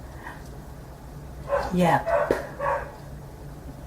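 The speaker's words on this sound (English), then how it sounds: "If you hear background noise, that's the dogs barking at something." Dogs bark in the background behind a short spoken reply, a brief cluster of barks fairly loud against steady room noise.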